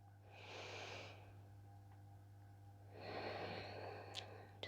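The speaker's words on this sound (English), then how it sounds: "Breathing in and out through the nose" Slow, calm breathing in and out through the nose during a relaxing pelvic floor yoga session, one soft airy inhale then a longer exhale, close and quiet over a steady low hum.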